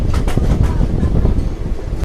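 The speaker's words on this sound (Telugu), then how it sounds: "ట్రైన్ వచ్చేసి కావాలి నుంచి అయితే బయలుదేరిపోయింది." A train pulling out of Kavali railway station, a loud steady rumble with rhythmic clattering of wheels and some wind noise, close and continuous throughout.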